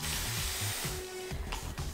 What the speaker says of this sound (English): I thought these water bottles were so cute, but they spray so weird.